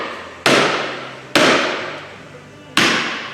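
A green hammer knocks on the steel differential of a Timberpro 830B machine, three loud close ringing taps spaced about a second apart, each ringing out and fading before the next, no voices.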